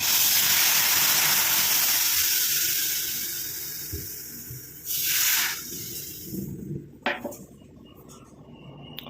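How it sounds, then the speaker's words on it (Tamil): Fruit juice poured into a very hot iron kadai sizzles and splatters with a loud, steady hiss that swells in a sharp burst midway, then breaks into crackling spits as it settles. "ரொம்ப சூடாயிடுச்சு அதனால் ஊற்றவும் ஃபுல்லாக தெறிக்க ஆரம்பிச்சிருச்சு"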